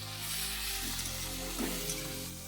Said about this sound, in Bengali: এবার এর মধ্যে একটু টমেটোটাও দিয়ে দিতে হবে, দিয়ে হালকা ভেজে